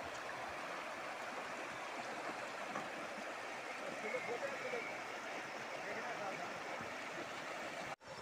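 The Ganges at Haridwar rushes through a shallow bathing channel in a steady, broadband wash of flowing water that stays unbroken and fairly close for the whole stretch.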